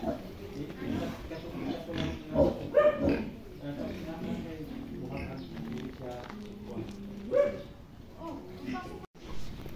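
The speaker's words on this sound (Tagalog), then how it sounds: "Tingnan nyo yung barako" Pigs and a tusked boar on a crowded pig farm grunt and squeal in close, overlapping bursts, with louder outbursts partway through, while someone talks over the animal noise.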